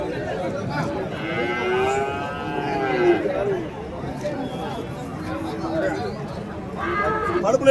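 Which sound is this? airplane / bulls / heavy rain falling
bulls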